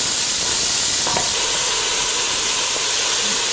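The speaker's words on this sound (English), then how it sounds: "now we're going to add those onions in there" Onions sauteing in olive oil, a steady close hiss of sizzling with faint scattered crackles and no one talking.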